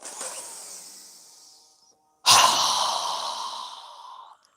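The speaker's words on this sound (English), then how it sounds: "we'll exhale with a strong breath through our mouth as we lower our arms and hands down" Two strong breaths pushed out through the mouth during a yoga breathing exercise, the first fading gradually, the second starting abruptly, louder and longer, each a close, breathy rush of air with no talking.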